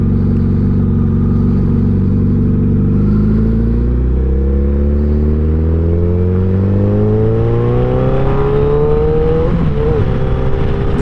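A second-generation Suzuki Hayabusa motorcycle under way, its engine note loud and close, rising steadily in pitch as it accelerates through gears, alone without talk.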